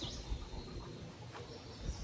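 Baby chicks peep faintly, with a few short high chirps scattered over a low background hum in a quiet indoor brooding space.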